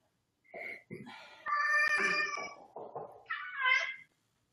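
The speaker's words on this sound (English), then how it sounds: "Oh, is that a kitty?" A house cat meowing in a series of drawn-out, wavering cries close to the microphone, several calls in a row with short pauses between them.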